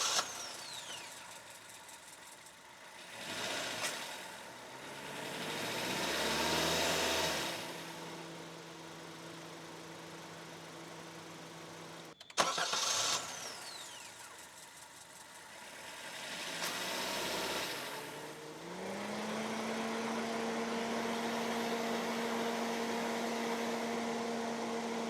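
Maruti Baleno's 1.2-litre naturally aspirated four-cylinder petrol engine idles smoothly, a steady low hum with a brief sharp click midway and a rise in pitch near the end, no talk over it.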